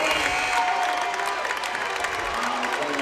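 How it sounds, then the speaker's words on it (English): A crowd at a high school boys' basketball sectional final applauds steadily, with a dense wash of clapping and some cheering throughout, and a voice faintly audible beneath. "And getting the round of applause here as some of the seniors will check out."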